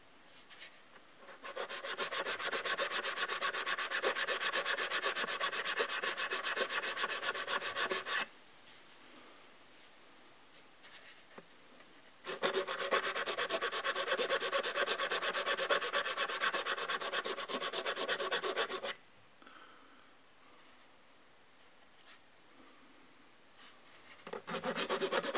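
Electric motor carbon brushes being filed down to resize them, giving two long, steady rasping bursts of several seconds each with quiet pauses between, and a third starting at the end.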